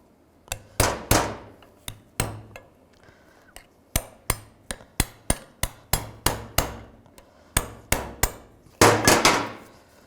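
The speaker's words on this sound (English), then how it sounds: "I'll just take a chisel and get underneath it." A hammer strikes a chisel driven under a CV joint boot clamp on a 2010-2017 Chevrolet Equinox, about twenty sharp metallic clanks in uneven bursts, close and loud with short ringing decays.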